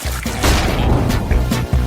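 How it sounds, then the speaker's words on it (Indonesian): A big explosion from a chemistry experiment gives a loud, continuous roaring burst with crashing noise throughout, close and filling the whole moment. "Wow, itu ledakan besar."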